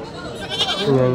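A goat bleats up close at a busy livestock market in Kadiri, one wavering cry rising over crowd noise and nearby voices.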